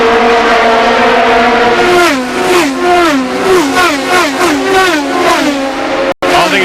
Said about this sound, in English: Kanaan is bringing the field back to the green flag and they're racing again